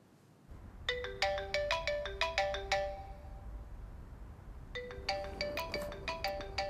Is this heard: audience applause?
no